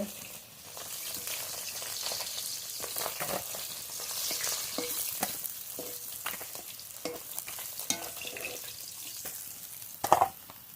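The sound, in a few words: silver carp pieces frying in oil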